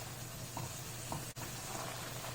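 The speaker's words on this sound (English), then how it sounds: "So this frying will take a while" Steady crackling sizzle of mee siam gravy paste frying in oil, faint and continuous with a couple of soft stirring knocks, no voices.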